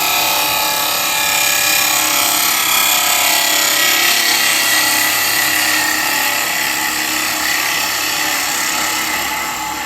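Carbide chisel cutting an elm burr spinning on a woodturning lathe, a loud, steady, bright scraping whine that holds for the whole stretch without pause.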